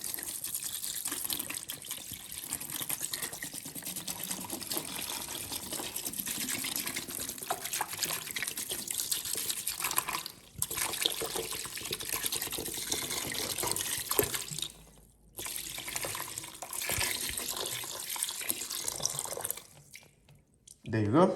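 Liquid pours steadily into a container with a continuous splashing trickle, pausing briefly a few times; close and fairly quiet.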